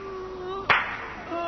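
One sharp, loud clap lands midway through, a single smack over faint tones and background hum in a cartoon about the last koala.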